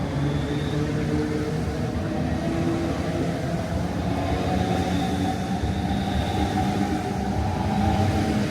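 Train pulling out of a station on its way to St Pancras, a steady rumbling roll of wheels and engine with faint high squeals, continuous and moderately loud throughout, no one speaking.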